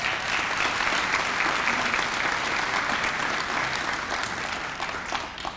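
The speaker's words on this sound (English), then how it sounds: "Can we just clap for that for a minute?" Steady, full applause from a crowd at a community celebration and salute-to-service event, dense clapping sustained evenly throughout without a break.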